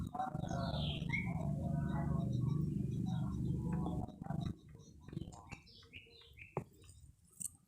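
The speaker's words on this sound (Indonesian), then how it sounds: "Ternyata burung." A bird calling near dense bamboo beside a fishing spot, with scattered chirps and ticking notes over a low rumbling background, fairly faint and intermittent.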